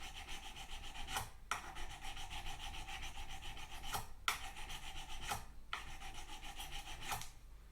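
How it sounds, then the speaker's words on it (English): A fine polishing block is rubbed back and forth over a guitar fretboard fitted with a fret protector, making a soft, even rasp in long strokes broken by brief pauses, close and steady with no voices. "And I'm just going to gently rub this over the fretboard."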